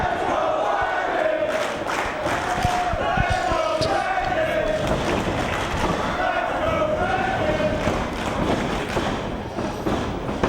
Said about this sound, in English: And listen to that crowd already.